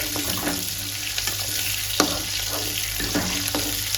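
Small onions sauté in a pan for kara kuzhambu, giving a continuous close sizzle marked by occasional scraping stirs and clinks, with no one speaking.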